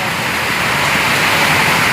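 Torrential storm rain hisses without a break, a close, even roar of water pouring down that holds the same loudness throughout.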